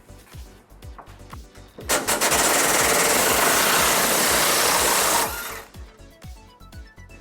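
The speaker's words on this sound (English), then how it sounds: "we're going to remove this bolt towards the rear of our frame using an 18mm socket" An 18mm socket removes a rear frame bolt on a 2009 Ford Ranger during trailer hitch installation. A loud, continuous mechanical whir lasts about three seconds, framed by quieter clanking before and after.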